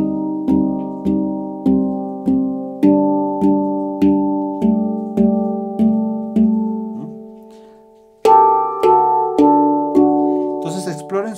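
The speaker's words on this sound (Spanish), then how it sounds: "estoy tocando mi jampan" A handpan is played with slow, evenly spaced strikes, each ringing, bell-like note decaying into the next. After a brief pause, a brighter cluster of notes follows, close and clear with no talking.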